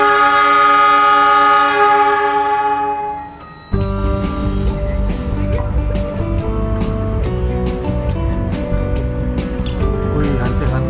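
A train at a station sounds a long horn blast that fades, then rumbles and clatters steadily with rhythmic clicks, close by and loud, with no voices.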